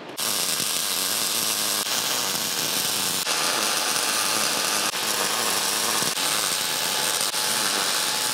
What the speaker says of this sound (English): stand by while I weld that up